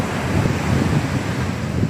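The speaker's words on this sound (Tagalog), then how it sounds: "Lakas ng alon." Strong ocean waves surge in a continuous roar, heavily mixed with gusty wind buffeting the microphone.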